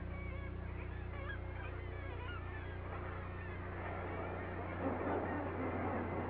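Seabirds calling from nesting cliffs in Svalbard, Norway in late summer, a dense chorus of overlapping honking and crying calls at moderate distance over a steady low rumble, swelling slightly toward the end.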